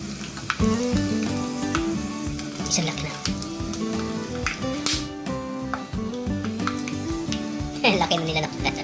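Chicharon pork rinds frying in a pot (kaserola), a steady crackling sizzle running throughout with occasional taps, under a dense layer of background music or noise.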